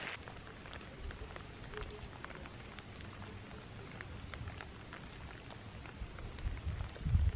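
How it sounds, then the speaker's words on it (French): Steady heavy rain patters and hisses on surfaces, a dense wash of drops with a low rumble swelling near the end. "parce que là ça drache"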